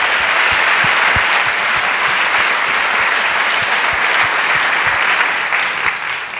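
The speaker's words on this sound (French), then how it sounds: "Let's clap for Jesus." A church congregation bursts into loud, sustained applause for Jesus, many hands clapping together close by and continuously, fading slightly at the end.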